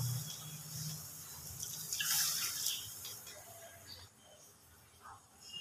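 Water is poured into a pot of curry for kachori, a soft running and splashing pour of moderate loudness that thins out toward the end, with quiet kitchen sounds and no talk.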